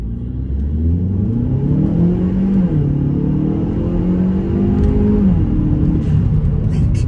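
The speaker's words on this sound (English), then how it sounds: "I love that turbo noise." A 2018 Hyundai Elantra Sport's turbocharged four-cylinder accelerating hard, engine pitch climbing through several gears with steady rumbling drone, close and loud throughout.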